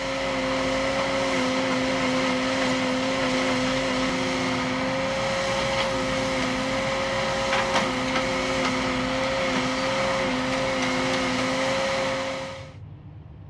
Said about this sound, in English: The machine effortlessly pulls out the old timber and slides in the new.